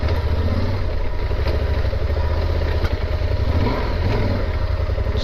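A Yamaha Super Tenere motorcycle grinds over a rocky off-road trail in George Washington National Forest, its engine a loud, steady, continuous rumble up close with clattering over the rocks throughout.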